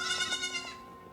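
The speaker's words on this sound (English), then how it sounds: "It is a sheep." A sheep bleats in a short, wavering cry with a few pulsing repeats, clear and close, then trails off into quiet.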